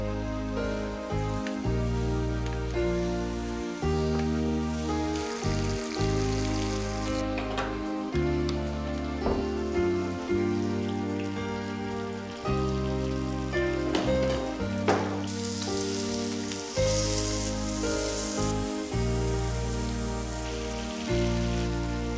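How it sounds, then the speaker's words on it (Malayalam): Fish pieces frying in hot oil, a steady close sizzle and crackle that runs throughout, heard alone without talk. "നമുക്കിനി മീൻ വറുത്തിടാം."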